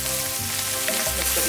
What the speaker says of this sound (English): we're just gonna cook these down for a few minutes until they get nice, soft, and translucent